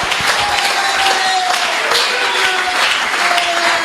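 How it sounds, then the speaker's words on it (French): A church congregation claps and cheers for the Lord at a French-language sermon, a close, dense burst of applause with scattered shouts and a preacher's voice over it. "Si ça vous fait du bien, acclamez fort pour le Seigneur."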